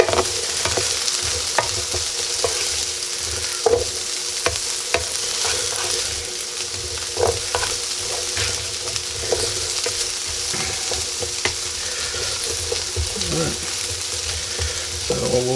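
Home fries sizzle loudly in a pan while being stirred, with repeated scraping and clattering strokes of the utensil over a continuous crackling fry, close and without speech.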